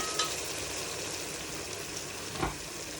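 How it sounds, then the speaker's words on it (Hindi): Chicken pieces hitting a pan of softened tomatoes for chicken pulao, giving a steady low sizzle with a brief louder hiss near the end, alone and fairly quiet. "अब इसमें चिकन ऐड कर देंगे"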